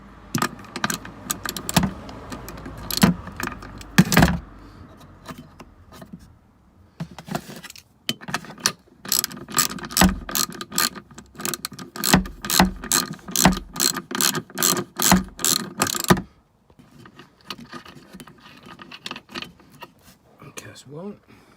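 A spanner gently undoes the wiper motor nut on a Mercedes B200 W246, sharp repeated metallic clicks and ratcheting taps in bursts, with someone talking in between.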